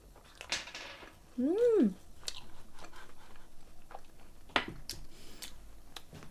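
A waffle shaped with a cartoon bear face is chewed with crisp, crunchy bites close to the microphone, with a short squeaky vocal sound and soft breathing between the bites.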